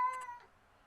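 A pet cat gives a single short, close meow that fades quickly into near silence.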